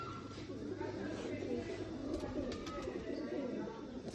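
Sialkoti Jaunsiray pigeons coo softly in a low, murmuring chorus, close and continuous, with faint background chatter and rustling.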